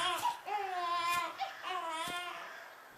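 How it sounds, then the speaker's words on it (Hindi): A baby girl cries in short, wavering wails from deep forest brush, a few repeated sobbing bursts, moderately faint and alone. "अब इतने घने जंगल में किसका बच्चा रो रहा है?"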